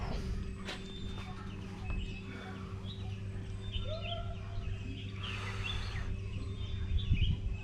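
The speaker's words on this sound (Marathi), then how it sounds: "पक्ष्यांचा किलबिलाट ऐकून मन अगदी प्रसन्न झाले आहे" Scattered bird chirps and short calls ring out over an outdoor background with faint rustling and footsteps, in the Warana area near Kolhapur, India.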